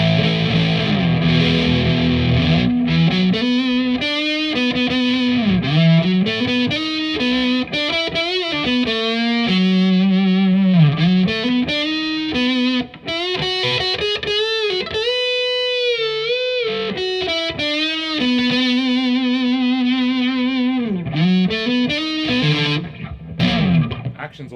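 Gibson Les Paul Black Beauty electric guitar through heavy distortion plays loud, sustained bluesy riffs and bends with sliding pitch, continuous and close for the whole stretch with no talking.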